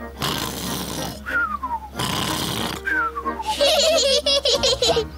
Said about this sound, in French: En plus, il ronfle bruyamment, comme ça